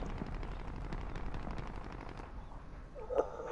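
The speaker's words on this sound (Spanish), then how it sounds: "Uy, están disparando." Distant automatic gunfire in the Call of Duty: Modern Warfare game crackles in quick rattling bursts, fading near the end.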